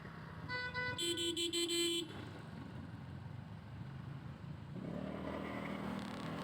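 Car horns honk in stop-and-go traffic in Ortigas, with a burst of repeated loud toots near the start over a steady idling engine and road rumble.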